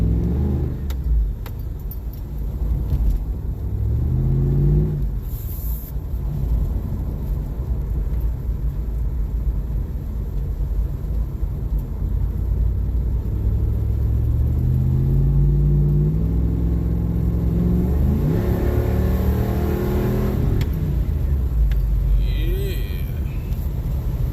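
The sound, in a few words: car engine revving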